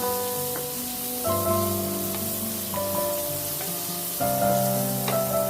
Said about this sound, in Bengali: এখানে 3-4টে রসুন কোয়া স্লাইস করে কেটে নিয়েছি, দিয়ে দিলাম